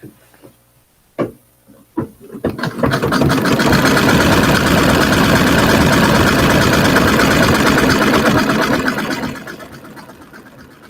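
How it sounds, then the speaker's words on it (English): A sewing machine stitches along a marked line on a foot-themed quilting project, a few clicks at first, then a loud, steady motor whir for several seconds before it winds down. "now we're gonna sew along the line with it for us"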